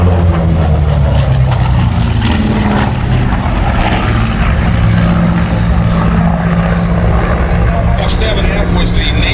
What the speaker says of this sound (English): This is Grumman's big, heavy twin-engine shipboard fighter developed during World War II.